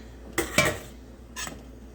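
Apple and sugar stirred in a pot on a stovetop for apple butter, two quick scraping clanks of a utensil against the pot followed by a third a moment later, close and otherwise quiet.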